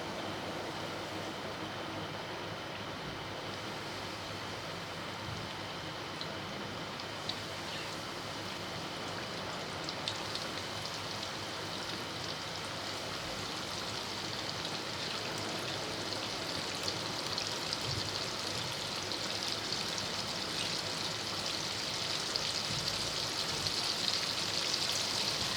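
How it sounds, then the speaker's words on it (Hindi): Chicken pieces deep frying in hot oil, a steady dense sizzle and bubbling that holds evenly throughout, fairly close, with no talk. "अभी हम इसको डीप फ्राई करते हैं। तेल हमारा गर्म हो गया है, एक एक पीस लेके आराम आराम से डालेंगे।"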